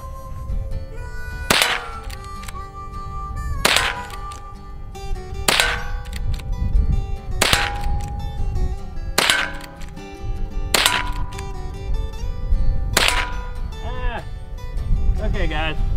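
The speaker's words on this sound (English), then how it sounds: "let's pump some into that Ghost Cowboy Bob." A Westernfield M895 lever-action rifle fires about seven spaced shots, each a sharp crack followed by a ringing metallic clang from a steel target, with working of the lever and talk between shots.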